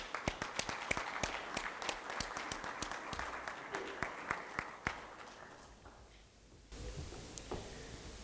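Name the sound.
audience applause at awards ceremony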